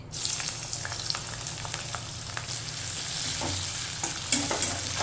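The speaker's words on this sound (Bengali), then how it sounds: "পেঁয়াজটা একটু ভাজা ভাজা হলে" Chopped onion frying in oil in a pan, a steady close sizzle broken by scraping, clinking stirs that get busier toward the end.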